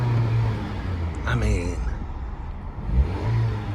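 A 2001 Acura Integra LS with a 4-cylinder engine hums steadily while driving, low engine drone with road noise throughout, as someone talks briefly over it.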